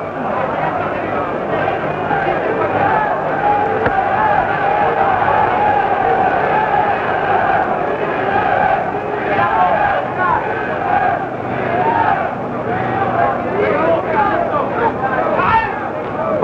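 Spectators at a boxing bout between Oscar Bonavena and Karl Mildenberger, a dense, sustained roar of an excited arena crowd with shouts rising and falling, far-off and unbroken throughout.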